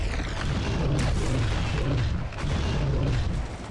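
Heavy, booming blasts and rumbling explosions come from a turret being destroyed in the video game Giants: Citizen Kabuto, with several deep thuds rolling over one another at full loudness with no speech.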